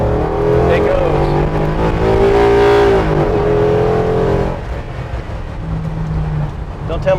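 A Ford F100 truck with a Coyote 5.0 V8 swap accelerates hard, the engine note climbing through revs with a gear change, loud and close, then settling into a lower cruising drone with a voice talking over it.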